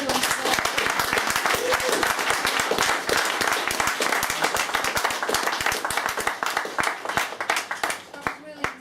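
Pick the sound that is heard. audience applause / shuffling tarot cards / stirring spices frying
audience applause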